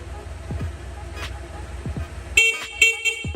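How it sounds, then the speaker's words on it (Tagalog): A Honda Click V3 scooter's stock horn beeps in two short, moderately loud toots near the end, after a steady low idle hum and a few clicks. "Tapos sa busina, stock horn."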